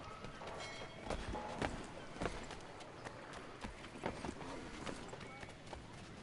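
Horse hooves clip-clop over ground in Assassin's Creed 3, a scattered run of soft, uneven hoof strikes at moderate distance over a low background wash, with possible faint voices beneath.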